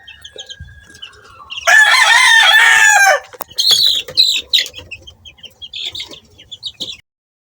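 Close, loud rooster crow lasting a couple of seconds, followed by chickens clucking and chattering nearby.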